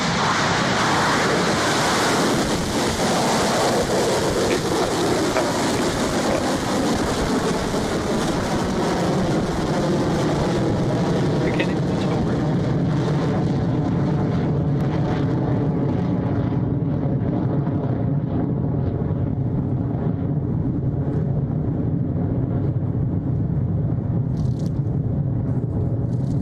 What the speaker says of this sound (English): Electron has left the pad and is off to meet the cosmos on this launch from Launch Complex 1